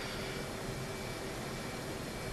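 A steady, even roar from an F/A-18 jet engine idling on the runway in the DCS flight simulator, a constant broadband hum with a faint whine and no speech.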